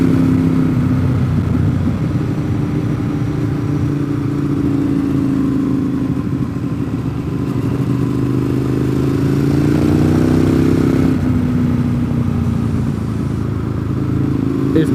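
A vehicle drives along a road under 30 miles an hour with a steady, loud engine hum and road rumble from inside the cabin, its pitch shifting slightly as speed changes.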